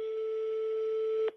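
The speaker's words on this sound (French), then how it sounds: "Ça sonne." A single steady telephone ringback tone sounds on an outgoing call, a clean continuous pitched note that stops abruptly after about a second, with no talk.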